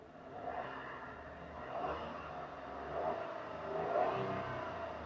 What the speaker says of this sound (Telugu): ఇంజన్ సౌండ్ చాలా స్మూత్ ఉంది